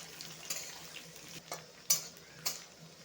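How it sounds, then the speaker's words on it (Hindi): Onions fry in a pan for an ivy gourd (dondakaya) fry with a soft, steady sizzle, while a utensil stirs and scrapes with a few sharp clinks up close. "दो मिनट में फ्राई कर लेंगे प्याज को।"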